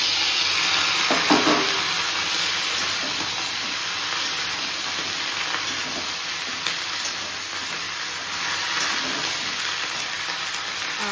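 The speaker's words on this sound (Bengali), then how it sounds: "পেঁয়াজ আর কাঁচা লঙ্কা দিয়ে দিয়েছি। একটু ভাজা হয়ে যায়" Chopped onion and green chilli frying in a pan, a loud, steady, close hissing sizzle throughout with faint stirring, no talking.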